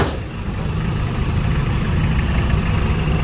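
A heavy dump truck engine rumbles steadily at low pitch while reversing, close and loud, with a constant droning tone throughout and no voices.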